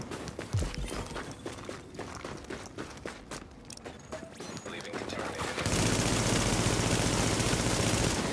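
Rapid bursts of gunfire from another player in an online shooter game, crackling in dense volleys, then swelling into a loud continuous roar near the end, with a player talking over it.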